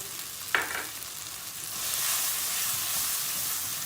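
Tomato paste and flour fry in a pan, with a single sharp tap early on, then a hissing sizzle that swells and holds steady close by, with no talking.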